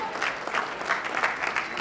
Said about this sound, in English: Come on, give him applause.